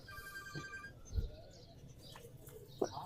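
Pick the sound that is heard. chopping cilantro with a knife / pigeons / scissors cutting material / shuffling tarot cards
pigeons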